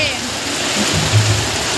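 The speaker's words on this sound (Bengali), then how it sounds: "আর দেখুন কি বৃষ্টি হচ্ছে" Steady, heavy rainfall hisses across the whole clip, dense and continuous, with a low rumble underneath.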